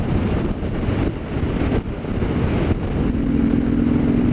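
A 2019 Harley-Davidson Sport Glide cruising in sixth gear, its engine a steady low rumble under heavy rushing wind noise, loud and continuous with small dips as the throttle eases.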